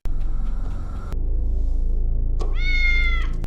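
A cat meows once loudly and up close, a clear rising-falling cry standing out over a steady low rumble and background noise from a story scene.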